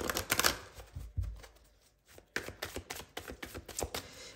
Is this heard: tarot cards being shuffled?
yes